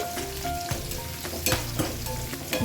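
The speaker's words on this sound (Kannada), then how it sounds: "ಈರುಳ್ಳಿ ಎಲ್ಲ ಮೆತ್ತಗೆ ಆಗುವವರೆಗೂ ಫ್ರೈ ಮಾಡ್ಕೋಬೇಕು" Chopped onions for Gadag Betageri chutney fry in a pan with a continuous close sizzle, broken by several sharp scraping and clattering stirs of a spatula.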